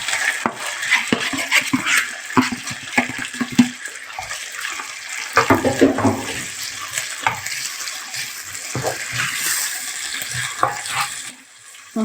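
Onions hiss and crackle in hot oil with chicken liver as a utensil stirs and scrapes the pan in repeated knocks, close and fairly loud, with no talk.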